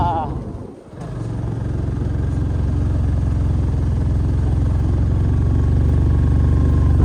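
A motorbike engine labouring up a steep, narrow hill road, a loud, steady low drone that dips briefly near the start and then holds an even, continuous pull.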